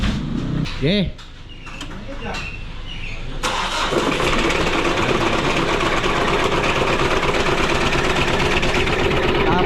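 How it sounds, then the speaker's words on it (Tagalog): A Mitsubishi Adventure with a 4D56 diesel engine cranks and fires up after a brief spoken word, then settles into a loud, steady, noisy idle that runs on up close, with a chirping bird faintly heard early on. "ipaparinig ko sa inyo yung andar nito mga bossing, kung gaano kaingay yung Mitsubishi Adventure natin"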